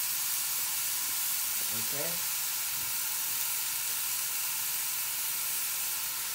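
Meat sizzling in a saucepan over medium heat for American goulash: a loud, even frying hiss runs unbroken throughout, with a brief faint voice-like sound early on.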